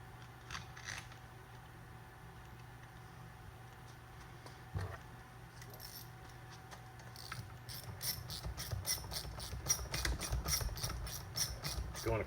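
A ratchet tightens new bolts on the housing of an OMC 9.9–15 outboard motor, giving a quick run of close, sharp clicks in the second half after quiet handling and faint background hum.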